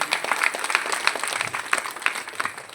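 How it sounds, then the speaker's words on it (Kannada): A seated audience breaks into brief, moderately quiet applause, a quick patter of many hands clapping at an even pace. "ಅವರಿಗೆ ನನ್ನ ಪರವಾಗಿ ಮತ್ತು ನಿಮ್ಮೆಲ್ಲರ ಪರವಾಗಿ ಜೋರಾದ ಚಪ್ಪಾಳೆ ಬರಬೇಕು"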